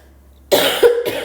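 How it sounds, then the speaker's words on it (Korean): A teacher coughs twice in quick succession after a short silence, loud and close to the microphone, the second cough a little weaker and throaty. "선생님 기침을 하고 있어서요"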